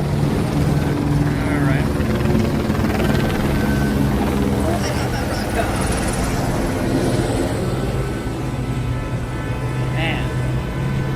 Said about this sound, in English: Just hearing freaking helicopters.